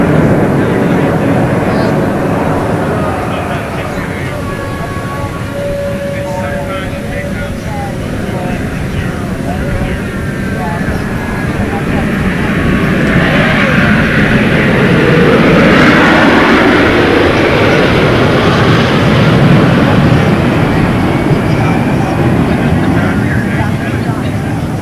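A Blue Angels jet formation roars through a loop at a beach airshow, a broad, loud engine rush swelling and shifting in pitch as the aircraft sweep overhead, with a commentator talking over it.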